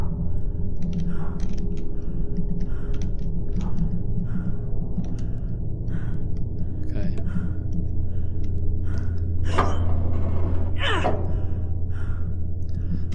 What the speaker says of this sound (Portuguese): reparem no som dela a respirar